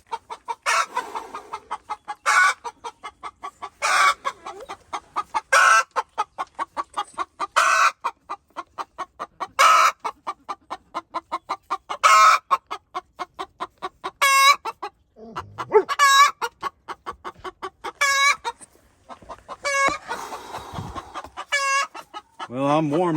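Chickens cluck in repeated bursts close by, a regular pulsing run of calls with brief pauses and one rooster-like cry, heard alone without talk.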